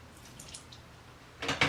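Water splashes out of a bottle in two short gurgling bursts near the end, after a stretch of quiet room hiss.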